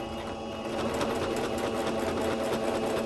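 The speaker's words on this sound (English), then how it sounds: "Put down your presser foot, and then we're just going to stitch." A sewing machine runs a straight stitch at a 2.5 stitch length with the presser foot down, a close, steady rapid mechanical whir and clatter, with no voices.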